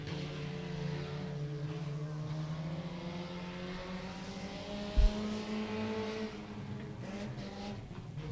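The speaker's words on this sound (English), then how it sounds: "Ben Lehane coming around for his first lap." A 4-cylinder stock race car on a qualifying lap at Beckley Motor Speedway drones steadily at high revs throughout, with a brief louder thump midway and a slight shift in engine pitch near the end.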